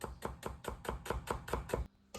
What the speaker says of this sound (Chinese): 少许洋葱切细丝